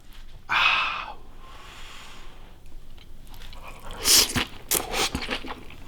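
Someone biting into crispy fried razor clams with garlic, with a loud crunch early on, a quiet stretch, then several close crunchy chewing bites toward the end.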